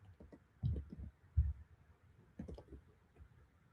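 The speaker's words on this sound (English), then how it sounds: "I'll type the code in." Keys clatter on a computer keyboard as a discount code is typed in, a few quick clusters of soft, close clicks and thumps separated by short pauses.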